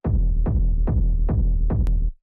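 Deep booming bass rumble struck by a kick drum, five heavy hits at a steady pace, each thump trailing into a low sustained drone, then cutting off.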